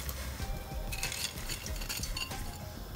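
Peas tip into a pot for a spinach stew, a quiet run of small clinks and rattles against metal with a soft stirring scrape, close and low in level.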